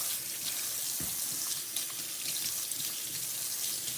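A kitchen tap runs steadily into a sink while chopping gear is rinsed under it, giving a continuous close hiss with a brief clunk of items partway through.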